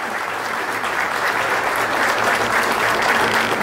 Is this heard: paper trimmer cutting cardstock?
no